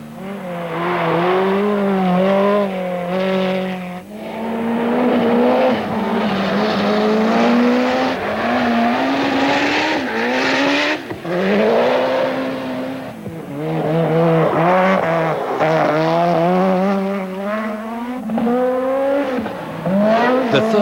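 Rally cars race up Pikes Peak, among them a Peugeot 205 Evolution, a Ford RS200 and a Mazda RX-7, their engines loud and close, revving and shifting with steady rising and falling tones that run throughout.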